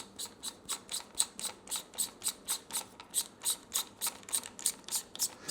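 Suppressor being screwed onto a FAMAS F1 gas blowback airsoft gun, a steady series of about twenty rhythmic ratcheting clicks, close and moderately loud, with no talk.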